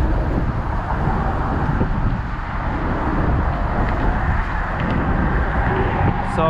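Motor vehicles pass on a bridge in New York City between Long Island City, Queens and Greenpoint, Brooklyn, heard as a steady, loud roar of traffic rumble and wind that lasts throughout.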